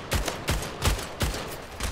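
Gunfire from the Splitgate arena shooter rings out in five evenly spaced sharp shots, loud and close, with no talk.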